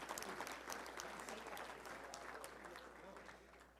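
An audience at a touchdown club luncheon gives a round of applause for the executive director, a faint, distant patter of many hands that slowly tapers off.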